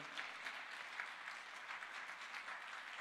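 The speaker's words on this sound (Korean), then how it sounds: "박수 부탁드립니다" Church congregation applauding to welcome Bolivian sisters from a sign-language ministry, a faint, steady wash of many hands clapping from a distance for about three seconds, with no talk over it.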